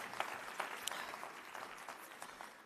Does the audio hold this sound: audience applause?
yes